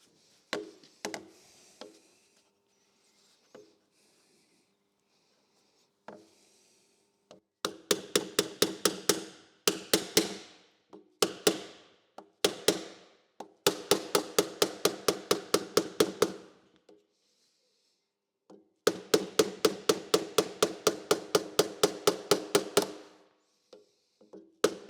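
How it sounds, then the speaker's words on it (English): Pneumatic air chisel with a nylon chaser working the steel floor pan of a Fiat Dino under restoration, heard as loud rapid hammering bursts of several seconds each, separated by pauses and a few lighter taps. "we'll see if we can use the air chisel on it"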